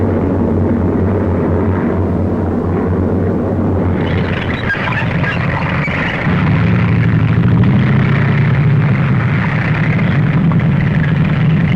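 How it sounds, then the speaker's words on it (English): Propeller-driven American military transport planes carrying supplies fly over a WWII North African desert advance, a steady continuous engine drone that swells slightly louder partway through. "American transport planes loaded with supplies follow us as we advance."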